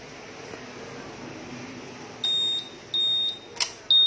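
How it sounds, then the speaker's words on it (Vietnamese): Electronic beeps from programming a key fob to a scooter's SCU smart key unit (Honda Vario): long and short tones in a long-short-short-long pattern, clear and close over a steady background hum. "Bíp dài, ngắn, ngắn, dài."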